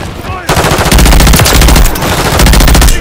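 Rapid, loud, close automatic fire from a BP50 assault rifle in Modern Warfare 3 rattles in a steady stream after a brief quieter start, with only a short pause partway through.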